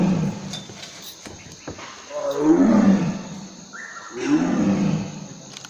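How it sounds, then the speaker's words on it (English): A tiger roars twice from a distance, each call a long rumbling swell that rises and fades, with a faint hiss and a few soft knocks before and between the roars. "we're gonna hear what a tiger's roar sounds like from a distance"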